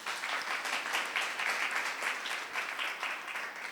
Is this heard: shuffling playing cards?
no